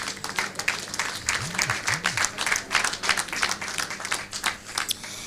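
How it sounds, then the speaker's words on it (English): Audience at a professional institute's general meeting applauds steadily, with dense clapping that carries on throughout and a faint voice briefly audible beneath it. "And I think Hajia Lami and her team deserves a very loud round of applause."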